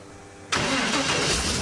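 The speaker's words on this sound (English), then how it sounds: "You gotta love how good an LS starts up." A GM LS V8 in a 1956 Pontiac 3/4-ton 4x4 mud truck, with knock sensors deleted, cranks and fires abruptly, then settles into a loud, steady idle close by, with no talking over it.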